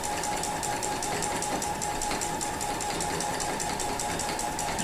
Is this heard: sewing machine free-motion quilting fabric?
yes